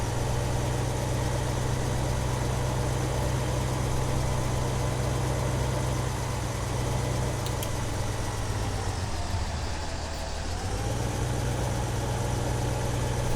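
A John Deere tractor in Farming Simulator 2015 idles with a steady low engine drone and rumble that holds continuously, dipping briefly before settling back to an even hum.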